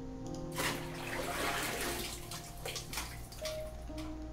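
Water running steadily in a video game, a broad continuous wash with a faint tonal hum beneath, close and even throughout with no talk over it.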